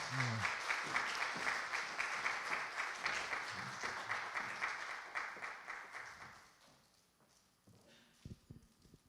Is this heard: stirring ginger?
no